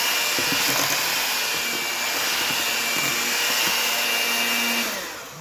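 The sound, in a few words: electric mixer mixing apple cake batter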